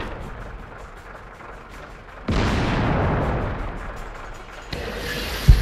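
Tank guns firing in World of Tanks during a clan wars battle, a sudden heavy boom with a long rumbling tail, then a second sharp shot near the end.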